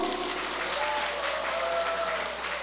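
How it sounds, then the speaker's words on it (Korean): At a Korean entertainers' association inauguration ceremony, the audience breaks into sustained applause, a thick continuous clapping wash, fairly faint and distant, with a faint tonal hum beneath. "여러분 함성과 박수!"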